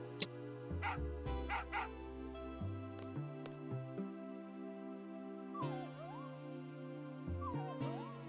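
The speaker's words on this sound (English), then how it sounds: "Hey, a dog." A dog barks and yips in short repeated bursts over background music and game effects in Final Fantasy VIII, moderately loud.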